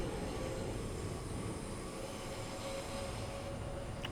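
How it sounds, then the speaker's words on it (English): A tube train rolls past in the Train Sim World 5 game on the West Coast Main Line, a steady low rumble and hum with no talking. "There's a tube train."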